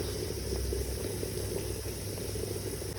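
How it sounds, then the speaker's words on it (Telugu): Jaggery in three glasses of water bubbling on a stove as it boils down into syrup for festival sweets; a quiet, continuous simmer with a low steady hum underneath. "పొయ్యి మీద మూడు గ్లాసులు వాటర్ వేసి పాకం వచ్చేలాగా మరగనివ్వాలి"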